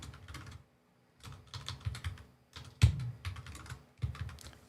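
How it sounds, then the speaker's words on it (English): Bursts of rapid typing on a computer keyboard, close and clicky, broken by short pauses and one heavier key thump, with no talking. "So sick of this keyboard."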